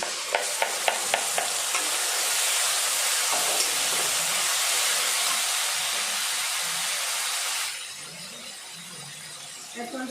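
Ground paste of whole cumin, jaluk pepper, green chillies, ginger and garlic hitting hot oil for a duck curry, a loud dense hissing sizzle after a few quick taps, easing down near the end with light stirring clatter.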